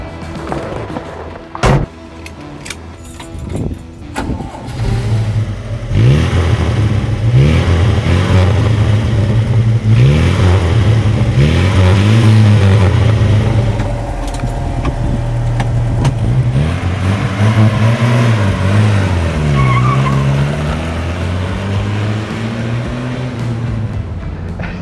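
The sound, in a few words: Chevrolet Opala four-cylinder engine accelerating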